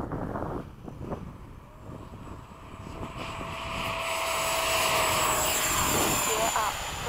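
An F/A-18 jet takes off with afterburner on a long runway, a rising broadband roar that swells and holds loud toward the end, with wind buffeting and voices talking over it.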